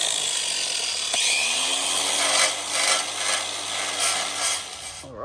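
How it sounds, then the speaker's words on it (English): A grinder fitted with a wire wheel scrubs grime off a sandwich plate during Barra engine work, a harsh continuous whirring rasp close up that ends abruptly as the tool stops. "So I'm just going to hit it with a grinder and a wire wheel."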